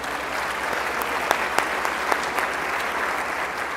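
Audience applause greets speaker Stephen Moore at a Kansas policy institute dinner, a steady dense wash of clapping with a few sharper claps standing out, loud and sustained throughout.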